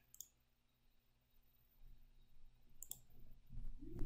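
Faint, sparse clicks of a computer mouse in a quiet room, a few isolated taps with a rising low hum toward the end.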